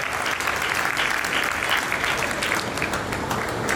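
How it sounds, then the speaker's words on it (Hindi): Loud, sustained applause from an audience at a Durga Puja festival gathering, dense steady clapping filling the hall throughout with no talk on top. "एक बार जोरदार तालियां पीछे तक पूरा सदन उठा दे"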